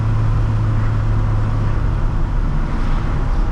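A 1965 Volvo 544 with a four-speed gearbox drives along, its engine giving a steady, loud low drone with road noise throughout and no talking.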